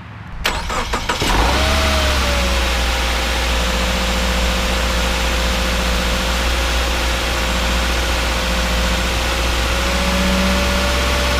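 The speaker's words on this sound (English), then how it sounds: "Now we're gonna let her cool off and try another cold start." A 2016 Subaru Legacy engine cold-starts with a brief cranking burst, then settles into a loud, steady idle with a faint rising whine that holds close and continuous throughout.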